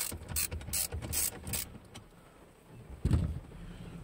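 Ratchet wrench loosening the steering wheel nut on a Nissan, a close series of quick clicking ratchet strokes in short bursts, followed by a pause and one last heavier clunk.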